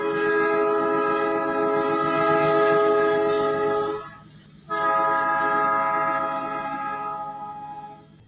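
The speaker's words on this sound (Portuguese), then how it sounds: "Esse é o trem que passa." A train rumbles past on the rails, loud and close, with a sustained tonal horn blast that stops briefly, then resumes and slowly fades.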